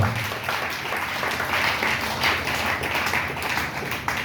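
Congregation in a church service applauding loudly and continuously, a dense steady roar of many hands clapping close by with no speech over it.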